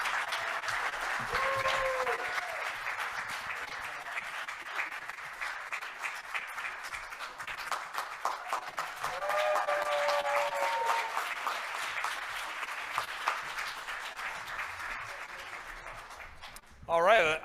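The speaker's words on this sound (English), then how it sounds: "how about another round of applause for that?" A summit audience gives sustained applause, a broad, fairly loud spread of clapping lasting well over fifteen seconds, with voices calling out over it now and then and a louder swell near the end.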